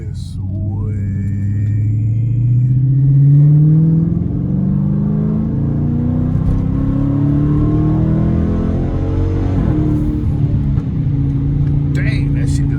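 A Dodge Challenger R/T with straight-pipe exhaust revs and accelerates hard in traffic, its loud rising engine drone climbing through gears, with a brief crackle near the end.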